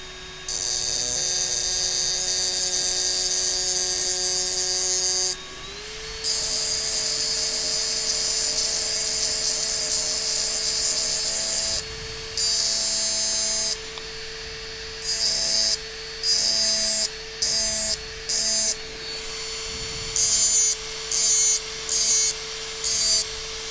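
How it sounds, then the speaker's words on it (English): A rotary engraving drill cuts into a glass paperweight, a steady high whine running continuously with its pitch shifting slightly, then breaking into short repeated bursts as the tool is lifted and touched back to the glass. "This is one of my spare drills"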